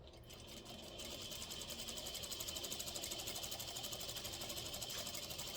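Sewing machine stitching a lapel collar with interfacing on one side, a close rapid mechanical whir that starts softly and then runs at a steady pace throughout, with no talking.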